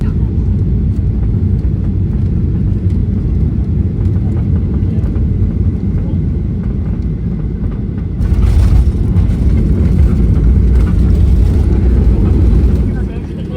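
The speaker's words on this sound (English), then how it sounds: "we're about to land into Haneda" Loud, steady low rumble inside the cabin of a JAL Boeing 737-800 landing at Haneda, with a sudden surge of broadband roar partway through, likely touchdown or reverse thrust.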